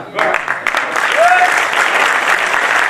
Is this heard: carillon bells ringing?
no